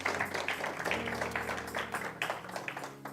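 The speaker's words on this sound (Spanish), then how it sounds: "Dele un fuerte aplauso al Señor." A church congregation gives a round of applause, heard as fairly quiet clapping mixed with murmuring voices and a low musical hum.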